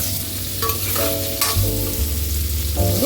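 Paneer cubes fry in a kadai with a steady, close sizzle and crackle, broken by brief scraping stirs and light clinks against the pan.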